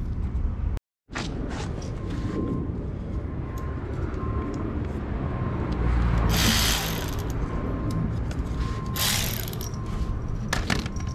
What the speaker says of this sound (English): now I'm on the bottom to take up the the bolts that holding this and then two bolts underneath